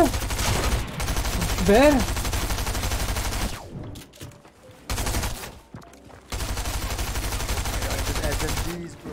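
Automatic SMG fire in a competitive shooter video game, rapid bursts rattling loudly in two long stretches with a short gap between, under excited shouting from players.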